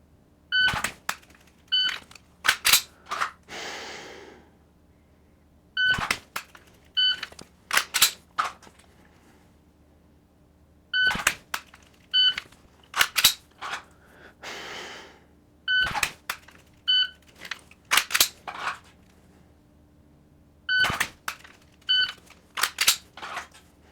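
Dry-fire pistol practice for a Steel Challenge drill: repeated sets of sharp, close trigger clicks and holster draw sounds, coming in evenly spaced bursts with short gaps of quiet between them.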